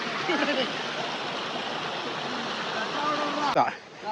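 Water rushes steadily like a flowing stream, with faint voices mixed in, before the sound cuts off abruptly near the end.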